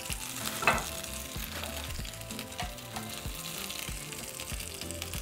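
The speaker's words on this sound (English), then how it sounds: "So we're going to fry until they're nice and golden." Potato and cheese taquitos fry in hot oil, giving a steady, dense sizzle throughout, with a few soft clanks from a utensil.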